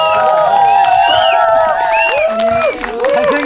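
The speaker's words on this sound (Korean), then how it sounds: "큰 박수 부탁드립니다" An indoor audience at a community small-library association meeting cheers and shouts loudly, many voices whooping together in a lively, sustained burst of welcome.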